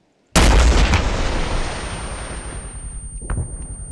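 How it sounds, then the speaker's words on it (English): A rocket launcher fires in ArmA 3 with a sudden, loud, close blast whose roar rolls on and fades over several seconds, followed by a fainter distant thud. "Clear back blast. Back blast clear. Your back blast is clear. Stand by. Rocket, rocket, rocket."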